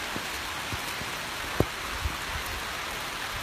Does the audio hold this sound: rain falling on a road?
yes